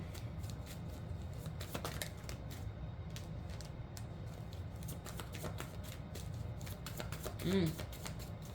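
A deck of cards is shuffled during a card reading, producing repeated crisp riffling clicks and flutters in bursts across several seconds, fairly quiet, with a brief vocal sound near the end.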